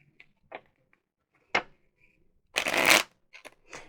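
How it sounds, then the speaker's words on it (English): An oracle card deck being shuffled close by: a few short papery riffles, then one longer, louder shuffle burst near the end, with no talking. "I'm just going to shuffle once. And I will do the other type of shuffle 3 times."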